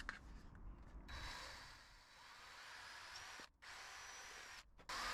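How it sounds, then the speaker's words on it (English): Power drill boring an 8mm hole through a panel of a VW T5 camper van, a steady whirring grind held for several seconds, broken by two brief pauses, close and alone. "We're going to drill through here."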